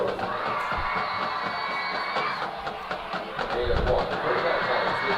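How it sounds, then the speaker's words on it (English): A high school football crowd cheers and shouts in a stadium, a broad roar of voices with whoops that swells toward the end, and a commentator talking over it. "you can hear the crowd fired up here for the Highlanders"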